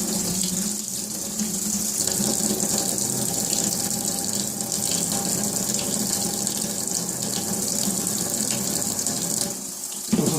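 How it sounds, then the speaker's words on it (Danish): A computer motherboard rinsed under a running tap, a strong steady stream of water splashing onto the board close up, continuous for about ten seconds before a brief clatter at the end. "Og så sørger jeg lige for at skylle godt med vand nede i sokken også"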